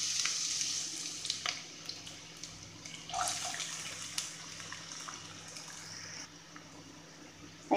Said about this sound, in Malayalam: ഓയിലൊഴിച്ച് ചൂടാവുമ്പോൾ അതിലേക്ക് നമുക്ക് ആദ്യം സവാള ഇട്ട് കൊടുക്കണം.